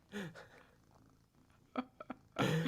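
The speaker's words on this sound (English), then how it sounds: "very good purring happening here" A cat purring softly close by, a quiet low rumble broken by a few brief louder bursts, with no one speaking.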